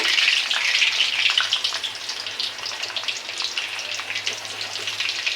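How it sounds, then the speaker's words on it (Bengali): Olive pieces frying in a pan for a Bengali olive pickle, giving a steady, dense sizzle with fine crackling throughout, close and fairly loud with no talking. "ভেজে নিচ্ছি।"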